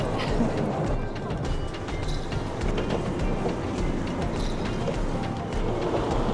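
Steady rumble of a passing train in China, with rail clatter and a constant heavy roar throughout.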